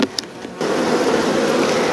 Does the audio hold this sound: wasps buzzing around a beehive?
yes